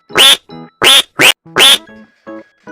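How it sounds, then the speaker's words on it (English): A duck quacks four times in a loud, evenly spaced series of harsh, nasal calls, each followed by a softer, lower honking note, with no talk. "duck"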